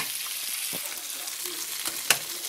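Stir fry sautéing in a hot pan, a steady broadband sizzle running throughout with a few soft utensil scrapes and one sharp clink near the end.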